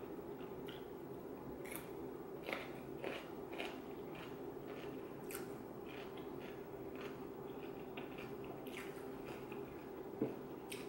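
Someone eating cucumbers, a run of quiet, wet crunching bites and squishy chews recurring irregularly, close to the microphone and faint.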